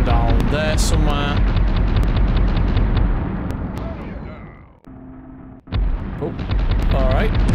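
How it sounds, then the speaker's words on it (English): Gunfire aimed at the player in the Small Soldiers video game, dense and loud with rapid bursts and booming blasts filling most of the stretch, a short quieter gap, then the barrage resumes. "I'm being shot from down there somewhere"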